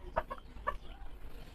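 A few soft, short clucks from backyard breeder chickens in cages, close but faint, spaced out over a quiet background.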